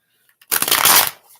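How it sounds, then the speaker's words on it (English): A short burst of riffling cards, a quick flutter of paper edges snapping together for under a second, close by, with no talking. "Almost done shuffling."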